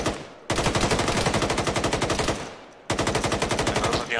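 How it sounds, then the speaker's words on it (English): Rapid automatic gunfire from the military shooter game Arma rattles in two loud, sustained bursts, the rounds evenly spaced, with a brief pause between them and no talk. "that AI shooting you from the balcony, get back in cover"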